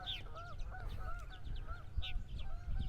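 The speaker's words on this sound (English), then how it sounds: "And there go our resident Canada geese." Canada geese honk repeatedly in a rhythmic chorus near a Long Island shore, their calls fairly close and clear over soft outdoor background noise.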